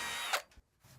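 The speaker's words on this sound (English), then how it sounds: "I'll drill a small pilot hole and cut out the rest with the jigsaw." A power drill runs at high speed, boring a small pilot hole in wood, then stops abruptly and winds down, leaving only faint knocks in the quiet afterward.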